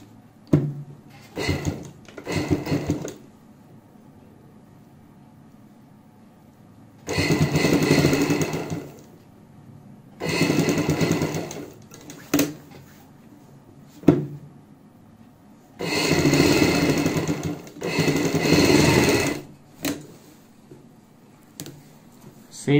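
A sewing machine stitches the back neck piece of a blouse in several separate bursts of fast whirring, broken by quiet pauses with small clicks and handling sounds.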